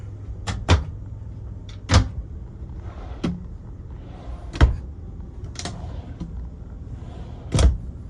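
Closet drawers in a 2018 Heartland Cyclone RV are slid open and shut, giving sharp wooden knocks and thuds spaced irregularly over several seconds, close by with a faint background hum.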